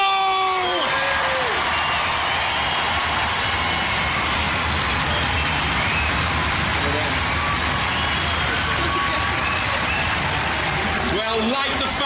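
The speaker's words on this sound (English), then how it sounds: "Scream the applause." Audience applause and cheering for the Robot Wars European champion, a dense, loud, continuous roar of clapping and crowd noise filling the whole stretch, with voices mixed into the din.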